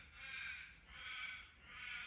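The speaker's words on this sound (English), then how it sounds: "Cockies, crows, magpies, noisy miners." Crows caw outdoors in three drawn-out calls in quick succession, harsh and fairly clear, with no talking.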